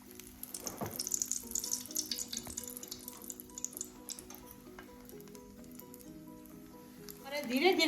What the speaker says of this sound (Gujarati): ધીરે ધીરે કરીને બધા ભજીયાને તળી લેવાના।